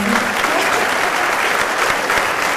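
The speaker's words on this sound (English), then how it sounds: "Let's give them a big round of applause." Steady applause from an audience at a small-town queen pageant, a dense wash of clapping that holds evenly throughout.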